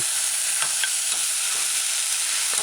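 Mushroom and chickpea stew being stirred in a pot gives a steady soft sizzling hiss, broken by a few faint scrapes and taps of the spoon, with no talking.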